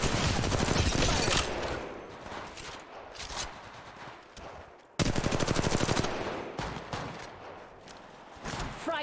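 Rapid automatic gunfire in Apex Legends Mobile, loud close bursts of fast rhythmic shots in two long strings separated by a brief pause, with a few quieter single shots between.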